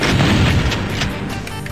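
A missile explodes in the Doom video game with a heavy booming burst at the start, followed by a rumbling decay and a few softer thuds, alone without talk.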